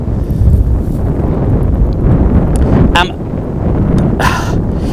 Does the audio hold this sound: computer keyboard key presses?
no